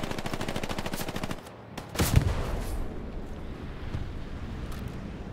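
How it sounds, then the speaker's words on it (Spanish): Rapid automatic gunfire in a shooter video game rattles in a fast, even burst, followed by a heavier blast and a low rumble that fades. "Está disparando a la Osuna"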